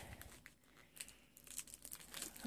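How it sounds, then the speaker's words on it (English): A new planner's plastic wrap being torn off, with faint, close crinkling and tearing that comes in uneven bursts, soft and without any voice. "unwrap this"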